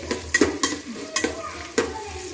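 Onions sautéing in a pan for Kerala-style chicken gravy, a soft sizzle broken by several sharp scraping strokes of a spoon against the pan, close and with no voices.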